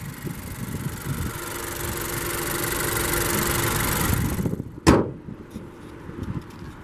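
A 2017 Honda CR-V Touring AWD with a 1.5-liter turbo four-cylinder at a steady, smooth idle, close by, until it shuts off; a single sharp thump follows in the quieter cabin.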